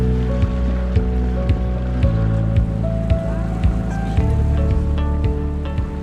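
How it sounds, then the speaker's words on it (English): A boat ride on Lake Victoria, with a steady, droning motor hum and a lapping water wash running throughout, plus a few faint knocks and clicks close by. "we are going on a boat ride on Lake Victoria"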